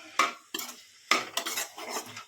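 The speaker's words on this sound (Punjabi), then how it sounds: "ਮਸਾਲਾ ਹਲਦੀ ਲਾਲ ਮਿਰਚ ਲਓ ਜੀ ਹੁਣ ਇਹਨੂੰ ਮਿਕਸ ਕਰਾਂਗੇ ਆਪਾਂ" A metal spoon clinks and scrapes in a pan while vegetables are mixed with turmeric and red chilli powder, three or four quick close strokes with short pauses between them.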